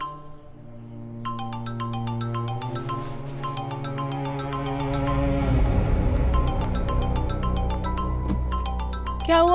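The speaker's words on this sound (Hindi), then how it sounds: "फोन बज रहा है तुम्हारा।" A mobile phone rings with a repeating melodic ringtone, bright chiming notes looping steadily and growing fuller over about nine seconds, heard alone without talk.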